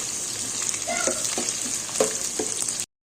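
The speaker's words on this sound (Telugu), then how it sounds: "ఇప్పుడు కాకరకాయ వేసుకోవాలి. కాకరకాయ ఇదంతా ఒకసారి కలుపుకోవాలి." Bitter gourd fries in oil in a pan, a steady close sizzle broken by a few scraping stirs of a spoon before the sound stops abruptly.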